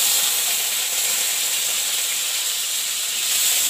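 Chopped green chilies and black cumin sizzle in hot oil, giving a steady, bright, continuous hiss with no talk over it.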